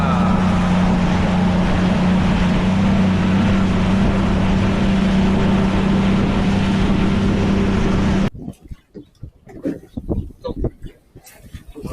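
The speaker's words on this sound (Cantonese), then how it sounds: "開船啦！" A fishing boat's engine drones loudly and steadily at close range with wind buffeting, then cuts away to quieter sounds with voices.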